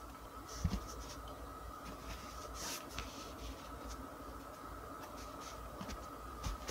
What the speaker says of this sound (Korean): 자, 그러면 카드를 뽑아볼게요.